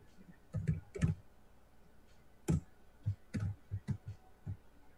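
Keys on a computer keyboard click in short irregular bursts, some single taps and some quick clusters, close and fairly quiet against a low background hum.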